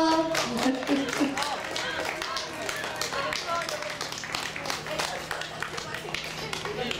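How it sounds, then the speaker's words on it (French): Spectators at a town carnival parade clap in a scattered, uneven patter that runs throughout, with voices talking over the applause and some taps mixed in. "Applaudissez-les bien fort."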